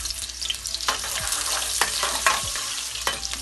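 Onions frying in oil for koftay, a continuous sizzle punctuated by several spoon scrapes and clacks against the pot, close and fairly loud, with no one speaking.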